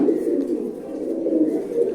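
A pigeon coos in low, throaty murmurs that roll on continuously at close range.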